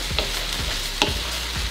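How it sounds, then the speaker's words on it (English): Rice being stirred into a hot pan with olive oil for chicken fried rice, steady sizzling with a few scraping strokes of the utensil, close and fairly loud. "We are ready to add in the rice. Stir it all together."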